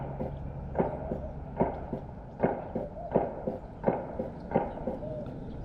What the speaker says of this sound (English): That sounds like gunfire.